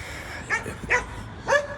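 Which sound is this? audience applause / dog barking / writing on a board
dog barking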